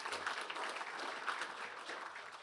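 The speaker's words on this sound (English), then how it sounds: "Let's give them a round of applause." An audience at a State of the City event applauds, a faint, continuous patter of many hands heard from some distance, with no speech over it.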